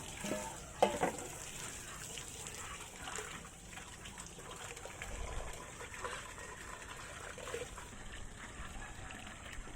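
Water splashing and trickling while pets are wetted down during a bath, with a sharp splash near the start and then uneven sloshing and dribbling throughout.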